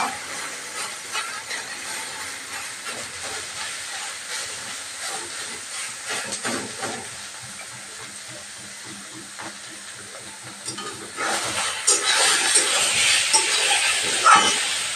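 Food stir-fried in ghee gives a continuous hissing sizzle that stays fairly even, then swells louder and brighter toward the end, with faint background sounds and no clear talk.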